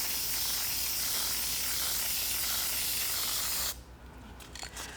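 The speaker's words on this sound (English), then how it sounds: "my finger was going a little too forward on the spray tip, and so I'm getting splatters" A spray gun sprays dye onto leather in a loud, continuous hiss that stops abruptly near the end, leaving a few faint clicks behind.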